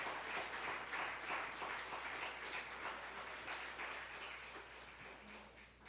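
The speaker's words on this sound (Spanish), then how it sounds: "Dele fuerte ese aplauso al Rey de Reyes y Señor de Señores." Church congregation clapping together during a sermon, a fairly soft and continuous wash of applause that swells slightly and holds steady throughout.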